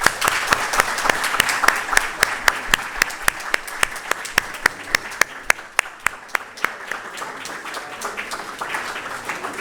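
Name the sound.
audience applause at opening ceremony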